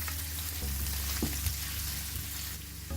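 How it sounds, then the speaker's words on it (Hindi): Three tablespoons of chopped onion fry in a pan for keema-stuffed capsicum, giving a steady, close sizzle with a few soft stirring scrapes and no talking. "इसे भी हम फ्राई करेंगे।"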